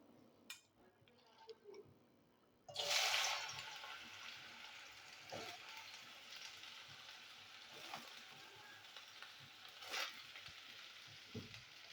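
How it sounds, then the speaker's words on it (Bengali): Sliced bitter gourd fries in oil in a wok, a steady close sizzle starting suddenly and running throughout, with occasional clinks and stirring knocks. "কড়াইতে একটু তেল দেবো আমি। দেখুন বন্ধুরা, এবার আমি উচ্ছেগুলো ভেজে নেব।"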